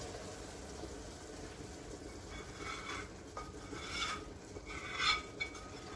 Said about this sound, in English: We're going to start pouring it into our milk mixture. And it's bubbling up.